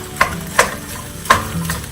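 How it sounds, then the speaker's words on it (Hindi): Spaghetti being stirred in a pan, a loud steady sizzle punctuated by three sharp scraping knocks of the spoon against the pan, with no talking. "अब मैं ये स्पैगेटी ऐड कर रही हूँ इसमें। तो अच्छी तरह से मिक्स करना है।"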